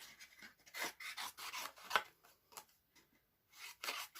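Card paper for a hot air balloon card is trimmed in short, quiet rasping strokes, several separate cuts with brief pauses between them, close and soft.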